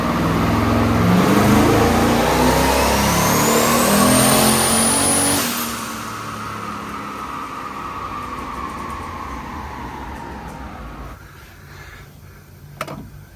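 A turbocharged car with raised boost and retuned fueling and timing screams up through a dyno pull, its loud rising engine and turbo whine climbing to a peak before dropping off and fading to a low idle with a sharp click near the end.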